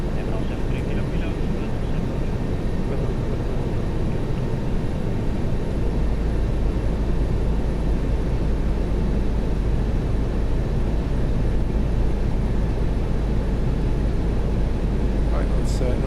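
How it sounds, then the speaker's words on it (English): An Airbus A319 airliner on final approach in the X-Plane 11 flight simulator, with a steady, loud engine roar and a deep rumble that keeps going without a break. "Autopilot disconnected, and we're going to land the aircraft now."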